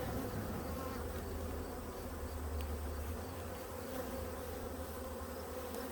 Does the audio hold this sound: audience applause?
no